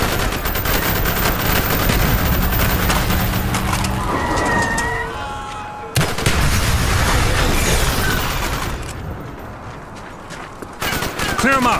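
Dense, loud gunfire in Call of Duty: Black Ops (2010), an urban street battle with rapid automatic bursts and shots layered almost without pause through the whole stretch, with a brief dip midway.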